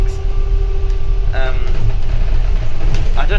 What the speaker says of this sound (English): the rear axle is making quite a noise